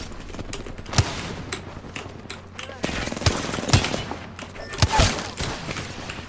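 Gunfire in a video game arena match: bursts of rapid shots and sharp single cracks crackle over a background hum, with several louder reports spread through the clip.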